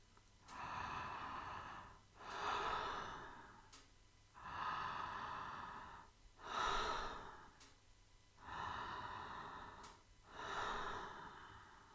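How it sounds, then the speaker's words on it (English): Slow open-mouth breathing during a relaxation exercise: six long, airy breaths, inhales and exhales alternating in an even rhythm about two seconds apart, close and soft, with no talking. "practice a few of those open mouth breaths"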